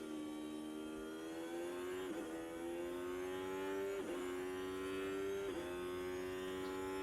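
A race car on a hot lap, sped up to double speed, its engine screaming at a high, steady pitch that climbs through the gears with three quick shift dips, loud and close throughout with no talking.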